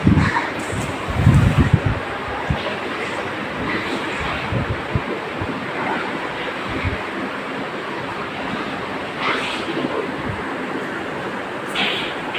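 Several electric fans run together in a madrasa students' dormitory room to dry a freshly washed floor, making a steady, loud, airy whoosh throughout, with faint voices and light knocks now and then.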